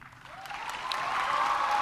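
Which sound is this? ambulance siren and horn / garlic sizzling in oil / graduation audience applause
graduation audience applause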